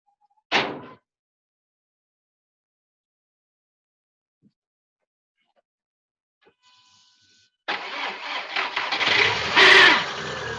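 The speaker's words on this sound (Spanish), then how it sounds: "Aquí yo arranqué mi motor" A car engine cranks and catches after a brief door-like thump and near silence, then settles into a loud, steady idle with a rough, broadband roar that builds toward the end.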